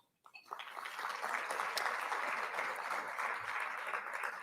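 An audience applauds at a university State of the University address, a sustained, even wash of clapping from a large crowd that starts abruptly and holds steady throughout, without speech.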